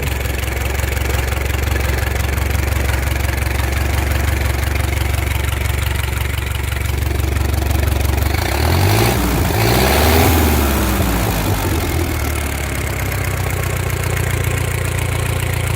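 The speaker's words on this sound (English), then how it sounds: "And we'll start her up." A 1915-1925 Essex car engine, cast iron cylinders on an aluminum block, with the valve cover off, runs in a close, loud steady idle, briefly revving with a rising and falling surge midway before settling back.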